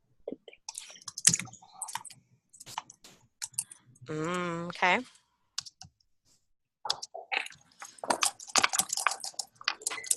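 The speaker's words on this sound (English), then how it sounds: "I hear y'all clicking and tapping away." Scattered clicks and taps of keys on computer keyboards, brief and irregular, with a voice speaking intermittently and a short tonal hum in the middle.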